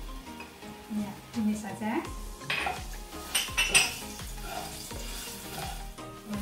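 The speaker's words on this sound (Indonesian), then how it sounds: "Nah, itu ditumis sampai baunya manis, jangan sampai hangus." Garlic sautés in a pan for cheese noodles, with soft sizzling under repeated metal clinks and scrapes of a utensil against the pan, and voices talking briefly.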